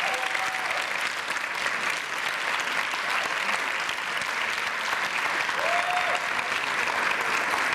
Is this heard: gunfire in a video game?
no